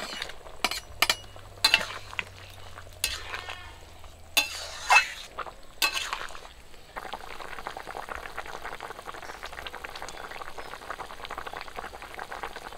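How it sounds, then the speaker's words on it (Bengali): Pre-fried fish is added to a pan of potato and ridge gourd cooking in spiced oil, giving a few loud clattering stirs and drops, then a steady soft sizzle and bubble. "ভেজে রাখা মাছ দিয়ে দিচ্ছি।"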